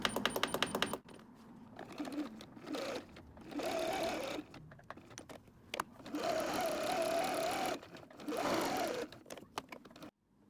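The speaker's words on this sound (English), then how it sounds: "Basting is just basically sewing with a bigger stitch" A sewing machine basting madras fabric for a tote bag with lengthened stitches runs in several bursts of steady mechanical whirring. It starts and stops between runs, and each burst is loud and close.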